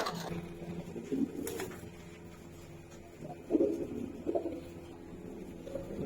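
Pigeons of the old Giribaz and Palla lines coo faintly in a few short bursts spread across a quiet room, with low hum and small handling noises between them.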